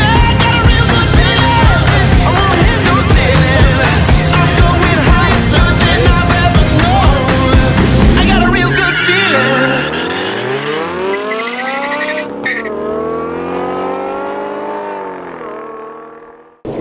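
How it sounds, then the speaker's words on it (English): A BMW M5 races hard nearby, its engine roaring loudly at high revs before the note sweeps down through a series of falling pitch changes as it passes and recedes, with tire noise mixed in. "I guess Paul wants to race me in the M5"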